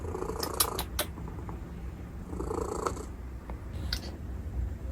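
George, a pet cat recovering from surgery, purrs up close in a steady, soft rhythmic rumble, with a few faint higher clicks and small movement sounds over it.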